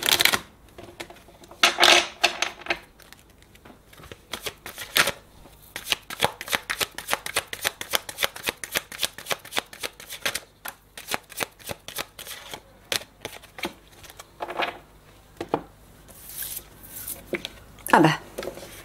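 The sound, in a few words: shuffling tarot cards for a reading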